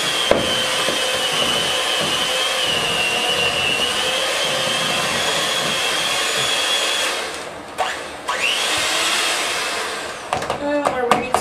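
Steady electric mixer whirring loud and continuous as sugary frosting is mixed thoroughly, then a few brief pauses and clatters near the end.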